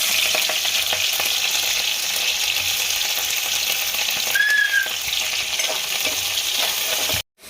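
Cumin seeds and onion sizzle in hot oil for a Hyderabadi chicken masala curry: a loud, steady, close crackling hiss with a faint whistle-like tone midway. The sound cuts off abruptly near the end.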